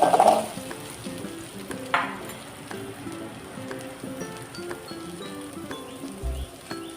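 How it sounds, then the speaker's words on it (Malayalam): Shallots go into a hot pan in a Kerala kitchen and fry with a faint, soft sizzle, while a spoon clinks and stirs now and then, all quiet and close. "അതിനുശേഷം ഇതിലേക്ക് കുറച്ച് ചെറിയുള്ളി ഇട്ട് കൊടുക്കുന്നുണ്ട്."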